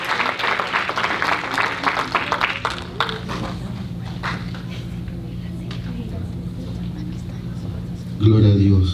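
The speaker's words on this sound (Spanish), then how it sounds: "un aplauso fuerte para los novios, aleluya" Wedding guests applaud the bride and groom, a burst of clapping that starts strong and then thins out over a few seconds, heard in a room under a low steady hum, with louder noise at the end.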